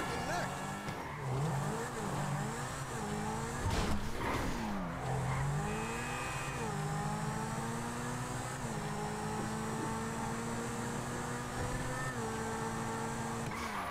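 A video game car drifting, its engine revving up and down in sweeping pitch changes while tires squeal and skid, with a couple of sharp impacts early on and a player talking over it.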